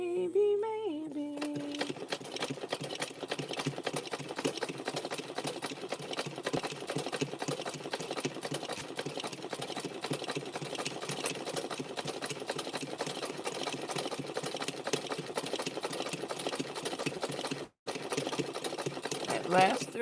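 A sewing machine runs steadily while stitching a rope handbag wrapped with fabric strips, a fast continuous mechanical whir and clatter that briefly pauses near the end, with speech faintly present alongside.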